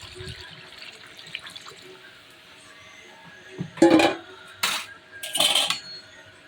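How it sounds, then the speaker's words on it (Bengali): A little water goes into a pan of cooked chicken curry: after a quiet stretch, a few short, splashy pours land close by in quick bursts. "এবার আমি এই অল্প একটু জল দিয়ে দেবো।"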